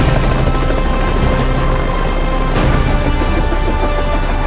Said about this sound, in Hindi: आज हम लोग करने वाले हैं हेलीकॉप्टर राइड इन न्यूयॉर्क।